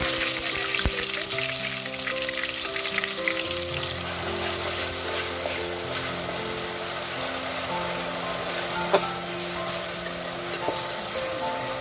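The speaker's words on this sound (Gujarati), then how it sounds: "આ રીતે એને આપણે એની અંદર નાખી દઈશું તેલમાં. આપણે હવે એની અંદર ડુંગળી એડ કરવાની છે." Onions frying in hot oil with spices for hotel-style chole, a steady close sizzle and crackle running throughout with a few brief pops, no voices.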